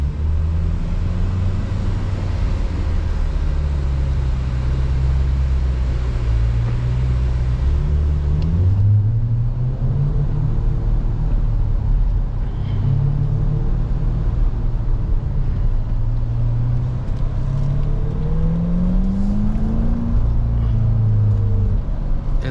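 A Corvette C8 Dubai Edition driven on city streets, heard from inside as a deep rumbling engine that rises and falls through several gear changes, loud and continuous without talk.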